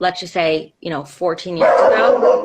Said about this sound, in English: Sorry about the dog, guys.